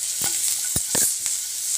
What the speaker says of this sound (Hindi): इतना ही हमें प्याज और लहसुन को पकाना है, ज़्यादा नहीं पकाना है